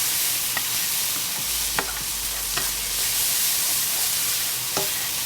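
Food seasoned with salt, pepper and cumin sizzles steadily in a pan while a utensil scrapes through it in a few distinct strokes. The frying stays loud and constant, with no voices.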